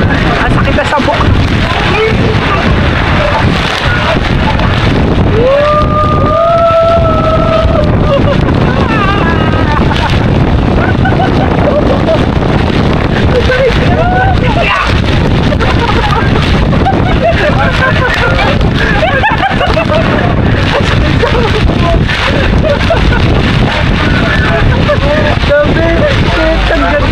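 Heavy rain and gusting wind outdoors in Hong Kong, a loud continuous wash with strong wind buffeting the microphone, while people talk and exclaim over it throughout.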